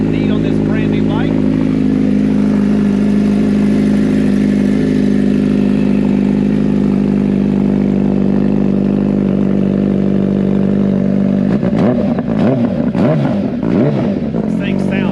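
A brand-new 2022 Suzuki Hayabusa motorcycle, fitted with a new aftermarket exhaust, holds a deep, steady idle up close for about eleven seconds. It then breaks into a quick series of sharp throttle blips and revs.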